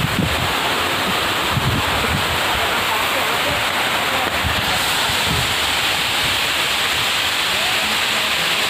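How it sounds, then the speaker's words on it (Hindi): Heavy water pours down steadily in a dense, continuous roar, close and loud throughout, with a faint voice speaking underneath. "तो गाइस ये पूरा हेवी वाला पानी वानी गिरने लग गया"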